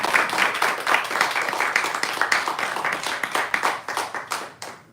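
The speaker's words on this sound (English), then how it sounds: "Let's all give her a big round of applause" A satsang audience in San Jose gives a round of applause for the speaker: many hands clapping together, steady and moderately loud, thinning slightly toward the end.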